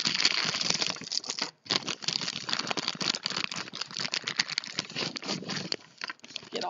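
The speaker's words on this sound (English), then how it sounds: "Bubble paper." Bubble wrap around a crystals order crinkling and crackling as it is unwrapped, close and busy for several seconds with one brief pause.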